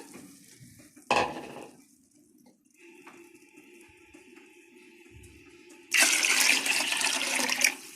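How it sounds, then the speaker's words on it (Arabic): A metal clank, a quiet stretch, then a steady rush of warm water poured into a pot of wheat for belila for about two seconds. "معايا بقى ايه ميه دافيه، اروح حطها كده على البليله"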